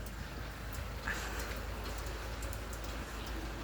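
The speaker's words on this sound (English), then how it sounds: "You see it's raining." Steady rain hisses softly and continuously, with faint patter of drops and no voices.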